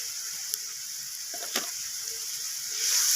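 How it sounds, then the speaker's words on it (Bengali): Onions sautéing with red chilli powder and cumin powder in a pan give a soft, steady sizzle and hiss, with a couple of faint clinks and a slight swell of frying noise toward the end. "এই সমস্ত কিছু মশলা আমি কষিয়ে নিচ্ছি এইভাবে পেঁয়াজের সাথে"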